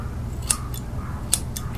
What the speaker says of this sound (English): You have the base of the scissors right here at the nose, and we just go over this way, just to the corner of the eye.